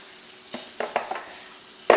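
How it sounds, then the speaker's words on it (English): Canola oil spray on chicken wings in an air fryer, heard as a few short faint hissing spritzes over a quiet background hum, ending in a louder clatter. "Hit the top of these with some canola oil spray"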